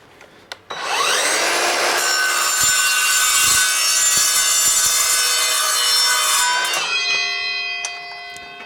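Battery-powered Evolution saw slicing short pieces of wood, a steady loud whining cut that runs for several seconds after a brief start, then winds down to a ringing motor coast-down near the end.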